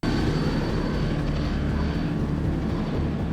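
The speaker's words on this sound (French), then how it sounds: "Oh, il y a les hélicos." A steady, loud helicopter engine roar with a rotor-like drone from a TV show fills the whole stretch, continuous and unbroken, with no talking.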